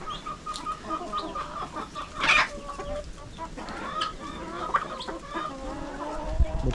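Darag native chickens cluck in short, irregular bursts close by, with soft background noise and some faint voices.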